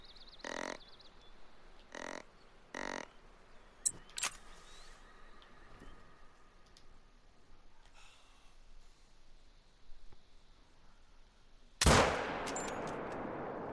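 A 6.5 hunting rifle fired at a whitetail buck 165 yards away on a New England mountainside: one sharp, loud crack near the end with a long rolling echo, after quiet woods broken by a few faint rustles and snorts.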